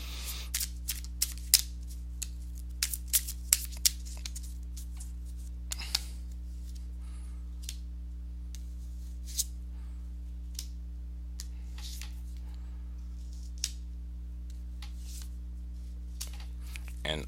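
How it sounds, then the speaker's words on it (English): Tarot cards are shuffled in soft, irregular riffles and taps over a steady low electrical hum, with sparse clicks spread across the stretch. "So let me go ahead and give these cards a shuffle to see what energies you'll be working with for the month."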